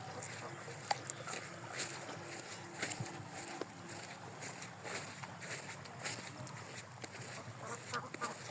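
Ducks paddle and play in water amid green surroundings outdoors, with soft scattered quacks and splashing under steady ambient noise, fairly distant and faint.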